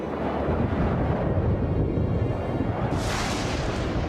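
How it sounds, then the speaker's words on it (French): Steady, loud roaring rumble of a thunderstorm in a children's cartoon, with wind buffeting throughout and a hiss of rain or gusts rising near the end. "Mais quel orage!"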